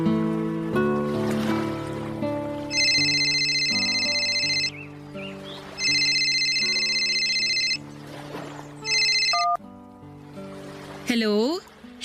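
A cellphone ringtone repeats in several high, even bursts over background music, followed by a short rising electronic tone, with a voice talking between the rings.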